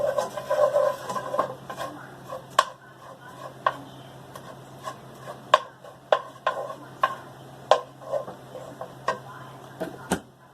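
A wooden spoon stirs melting ingredients in a pan for cheesy bacon macaroni and cheese, giving soft scraping and a string of sharp knocks against the pan at irregular intervals over a low steady hum.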